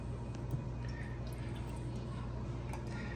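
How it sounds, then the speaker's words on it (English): Vanilla iced coffee poured into a cup of ice, a close, steady liquid stream trickling and splashing at an even level over a few seconds. "you just kind of pour the iced coffee delight vanilla in"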